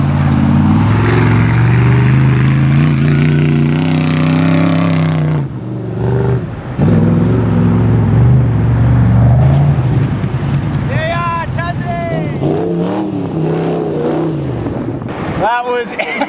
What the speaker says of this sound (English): She's a V8 supercharged with ethanol injection.